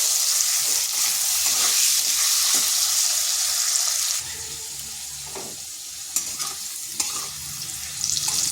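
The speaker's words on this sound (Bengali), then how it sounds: "আলুটাকে এইভাবে নেড়ে চেড়ে একটু লাল লাল করে ভেজে নেব।" Potato pieces seasoned with salt and turmeric frying in oil in a pan, a steady close sizzle with scraping stir strokes and a few sharp clinks from the spatula, easing slightly partway through.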